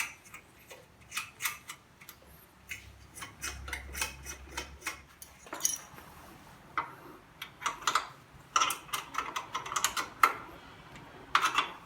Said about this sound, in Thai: ทำการล็อกน็อตเบอร์สิบทั้งสองฝั่ง